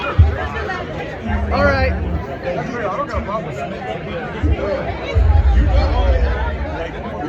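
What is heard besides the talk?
crowd chatter in front of a stage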